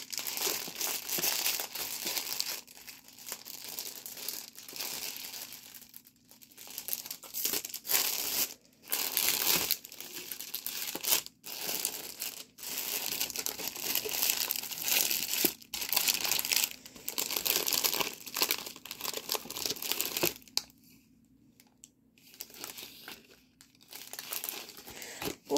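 Plastic diamond painting sticker sheets crinkle and rustle continuously up close, with loud crackling bursts, a few short pauses and a quieter stretch near the end, and no talking.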